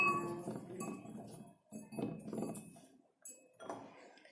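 A spoon clinks and scrapes against a bowl while salt and cumin powder are mixed into tamarind for homemade hajmola, in close, moderately quiet bursts separated by short pauses.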